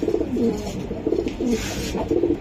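Racer pigeons coo close by in a loft, repeating soft, throaty rolling calls in a steady rhythm over a low background hum, with no talking.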